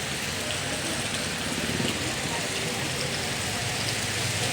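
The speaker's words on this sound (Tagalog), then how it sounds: "Bigla nang umulan hanggang ngayon, tuloy-tuloy na, hindi na po siya huminto." Heavy rain falls without a break, a thick continuous hiss and patter close by, with a low engine-like rumble underneath.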